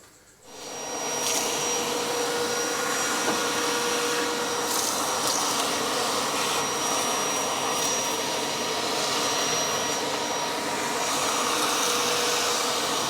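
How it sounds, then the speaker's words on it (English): Vacuum cleaner cleaning out the engine bay of a Holden HT Ute starts up and runs as a loud, steady whine for the rest of the clip, with no talk over it. "We'll give that a vacuum out first, eh?"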